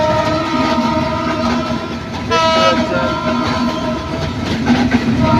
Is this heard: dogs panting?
no